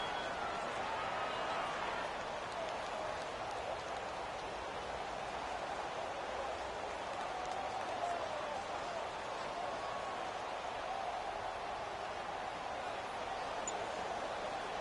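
Steady, dense crowd roar from a PS4 American football video game, cheering late in a tight finish before a two-point conversion, a continuous wash of stadium noise holding at an even level for the whole stretch, with no clear talk on top.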